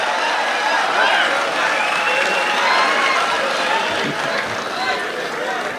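An audience at a poetry gathering bursts into loud, sustained applause to welcome a poet, a dense wash of clapping from a large crowd that stays steady throughout.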